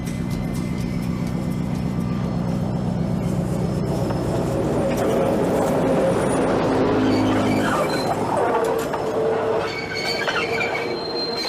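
A Hotham Valley Tourist Railway train at Dwellingup, Western Australia, rumbles steadily along the tracks with rhythmic clacking and occasional metallic wheel squeals, loud and close throughout.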